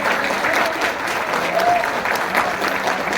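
Steady, dense applause from an audience at an achievement celebration fills the space, even and sustained throughout with a faint murmur of voices beneath.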